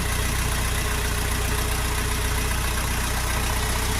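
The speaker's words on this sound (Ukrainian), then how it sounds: "То є трактор Донфен 404 G2." A Dongfeng 404 G2 tractor engine runs steadily at idle, a constant loud diesel rumble with no variation and no voices.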